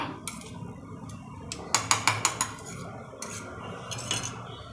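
Spices being coarsely crushed with salt for a Gujarati bread vada snack, a series of sharp grinding clacks and scrapes up close, with a quick run of five hits in the middle and a few scattered knocks around it.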